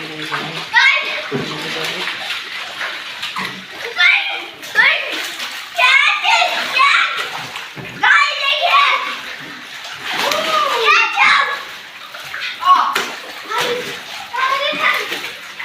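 Two children play and bathe outdoors, with water splashing and sloshing in bursts while excited young voices chatter and shout over it.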